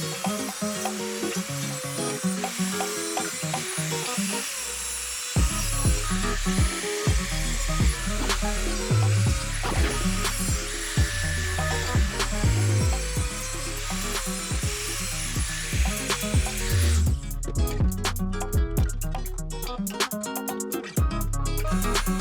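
A small, tiny-arbor saw blade cuts recycled skateboard wood for handmade sunglasses, giving a steady, close whining buzz with shifting pitch as the blade bites and eases off, running continuously with brief pauses.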